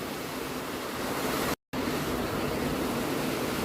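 Heavy rain pours down outdoors while an old trailer is being worked on, a loud, steady broadband hiss that fills the scene, interrupted only by a momentary drop to silence.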